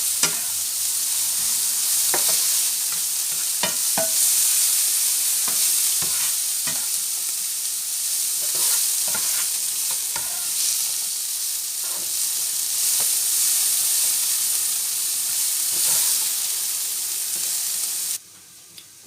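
Sliced peppers sizzle and fry steadily in a hot pan as a garnish for chicken in peanut velouté sauce, with occasional stirring clinks over a continuous bright hiss that cuts off near the end.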